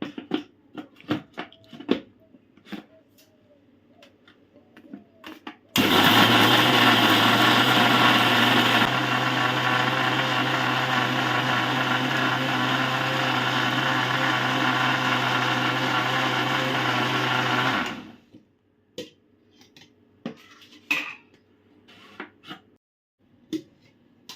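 A kitchen blender whirs loudly and steadily for about twelve seconds, blending mango juice with dried mint leaves, framed by quieter clinks and handling noises before and after.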